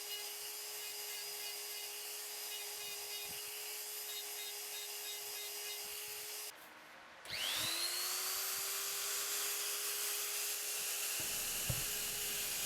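A rotary tool with a ball-nosed carbide bit whines steadily against a wood turning as it carves a texture, cutting out briefly before spinning back up, loud and close.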